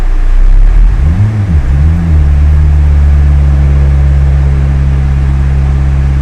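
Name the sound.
turbo K24 Honda Civic engine running on dyno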